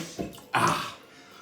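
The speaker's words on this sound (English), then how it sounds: "cold water on my face." Cold tap water is splashed onto a face by hand after shaving, two quick wet slaps close by, the second louder, fading into a soft drip and breathy exhale.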